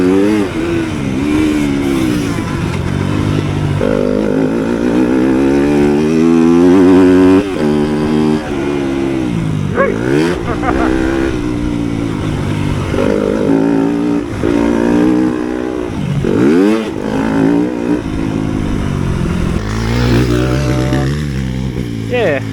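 A 2020 Yamaha YZ250FX dirt bike being ridden, its engine repeatedly revving up and dropping back in rising and falling whines, close and loud, with some talk mixed in.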